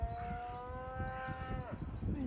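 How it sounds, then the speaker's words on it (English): Small Dexter cattle on a farm let out a long, drawn-out moo that slides downward at the end, heard outdoors at a modest distance with faint birds chirping behind. "there's the little Dexter cows that belong to Peter and Philip as well"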